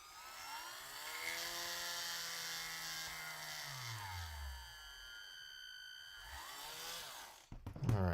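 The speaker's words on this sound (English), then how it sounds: "we're going to drill into his thigh and see if a screw will go in there" A power drill bores into the thigh of a plastic action figure with a steady high-pitched whir. The motor pitch sags and recovers as the bit bites, then it stops with a few clattering handling noises.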